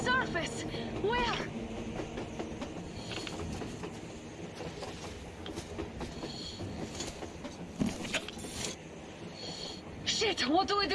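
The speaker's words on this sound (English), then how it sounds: "A train! A damn train on the surface!" Train rumbling along in the post-apocalyptic game Metro Exodus, a steady low rolling clatter with faint rattles, partly under excited voices talking over it.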